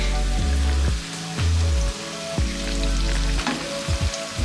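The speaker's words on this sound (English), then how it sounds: "I'm going to fry it for another 2 to 3 minutes because I want the onion to be a little bit faint" Salted fish, ground onion, Scotch bonnet pepper and garlic fry in red palm oil, a loud, dense sizzle that crackles and spits close by, with a few low thumps from stirring.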